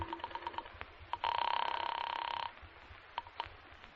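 Telephone dialing effect from a radio drama, a series of clicking dial pulses followed by a sustained buzzing ring tone, then more clicks, heard fairly faint and close without voices.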